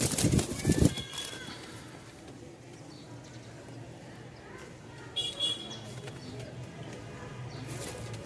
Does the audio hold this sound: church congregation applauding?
no